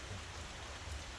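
Steady rain falls on a rainy day, a dense, even hiss with low rumbling underneath and no voices.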